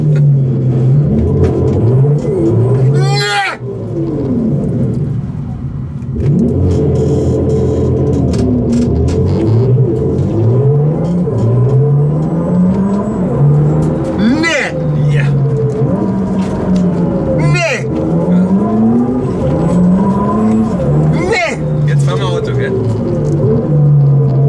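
A Hyundai RN22E accelerates hard, its engine climbing through repeated rising revs with brief dips at gear changes, loud and close inside the cabin, with people talking over it.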